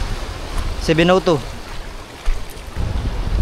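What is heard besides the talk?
strong wind and waves at the sea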